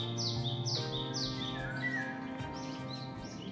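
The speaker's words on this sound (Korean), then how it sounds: "새소리가 너무나도 평온하고 아름답게 들려옵니다." Birds sing and chirp in a forest beside a lake, repeated bright descending calls layered over one another, fairly close and clear, with a steady low hum running underneath.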